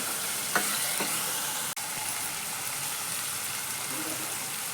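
Masala sautés in a pan with a soft, even sizzle, with a few spoon scrapes early on and a single sharp tap partway through.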